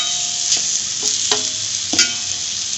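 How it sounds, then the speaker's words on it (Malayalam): Meen peera, a Kerala fish dish, being stirred in a pan with a steady sizzle underneath and several distinct scraping strokes of the spoon against the pan, close and fairly loud, with no talking. "എന്നിട്ട് നമ്മൾ നല്ലവണ്ണം ഒന്ന് ഇളക്കിയിട്ട് നല്ലവണ്ണം ആയിട്ടുണ്ട്"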